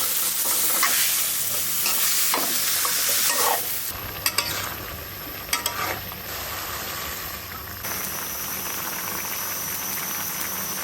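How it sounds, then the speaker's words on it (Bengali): Fish being sautéed with radish over a stove, a loud continuous frying sizzle with stirring scrapes and a few sharp clinks of a utensil against the pan, no talking. "মাছটা কষানো হোক এখন মূলা দিয়েও কষাবো"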